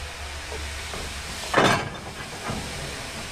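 A steam train hisses in one brief, loud burst of escaping steam, with a fainter puff just after, over a low rumbling background on an excursion ride.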